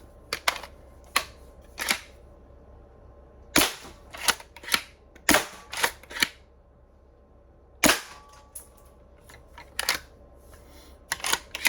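A 3D-printed spring blaster prototype fires about a dozen loud, sharp snapping shots at irregular intervals, some close together in quick pairs, with quiet gaps between and no voices.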